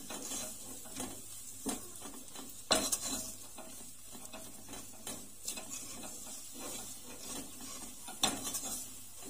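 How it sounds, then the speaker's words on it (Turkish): A spoon stirs and mashes the base for a chicken-breast supangle dessert in a pot, with scraping strokes and several sharper metallic clinks against the pot over a soft background sizzle. "iyice bir karıştıralım. Kaşık yardımıyla önce bir ezelim."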